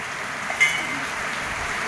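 Heavy rain falls during the rice-planting season, a steady hiss of drops on surfaces at an even level throughout, with one brief sharp knock and no speech.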